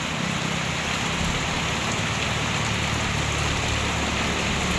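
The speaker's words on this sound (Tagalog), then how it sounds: "ngayon pong hapon na ay po lumalakas po yung ulan" Heavy rain pours down in a dense, unbroken hiss, loud and steady throughout with no voices.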